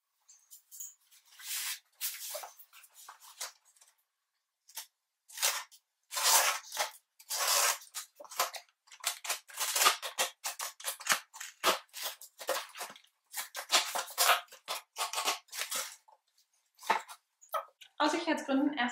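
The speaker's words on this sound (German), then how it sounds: "Ich habe dazu ganz fachmännisch vorbereitet, keine Schere, nur ein Bastelmesser-Skalpell." A craft knife scalpel slices open a parcel at close range: irregular scraping and tearing strokes of cardboard and tape, some rapid and rasping, others single sharp rips, with rustling packaging near the end.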